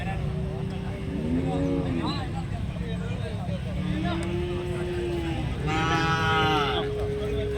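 Several cattle moo and low in drawn-out calls across the busy, noisy outdoor livestock market at Vaniyamkulam, with people talking in the background.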